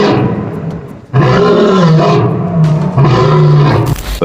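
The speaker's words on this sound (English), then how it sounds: "The thunderous call of a lion or tiger can travel for miles." A big cat, lion or tiger, roaring loud and close: a deep, rumbling drawn-out roar that breaks briefly, then a second long roar, with a short noisy burst at the very end.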